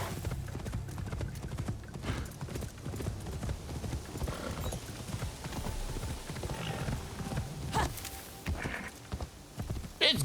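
Steady clip-clop of a horse's hooves in a video game, moving at a walking pace and close by, with a brief neigh and other game sounds layered over it.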